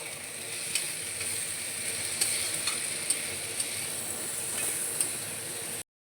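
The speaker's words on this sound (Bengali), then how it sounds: "দেখো বন্ধুরা মাছ ভাজছি আর জানোই তো এই মাছ ভীষণ পরিমাণে ফাটে" Boal fish fries in a pan of oil, giving a steady moderate sizzle with scattered sharp spits and pops, then a sudden cut to silence near the end.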